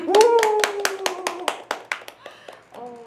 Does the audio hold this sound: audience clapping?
yes